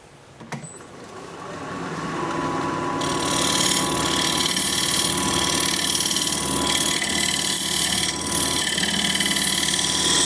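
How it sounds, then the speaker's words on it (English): A diamond point wood turning tool being sharpened on a power grinder: a loud, steady, close grinding hiss with a continuous hum underneath that swells after a brief start and holds throughout, with no talk. "I've got to sharpen up my diamond point tool"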